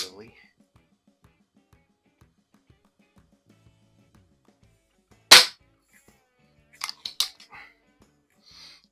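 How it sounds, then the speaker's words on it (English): A Diana P5 Magnum air pistol fires cheap wadcutter pellets, giving one sharp, close crack in a quiet setting, followed by a few smaller clicks and clatters. "I am just shooting some real cheap beam and wad cutters"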